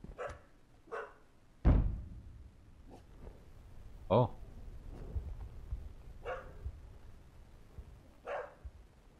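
Dog barking in the horror game Something In The Well, a handful of sharp, separate barks spaced irregularly at moderate distance, with a voice speaking briefly between them.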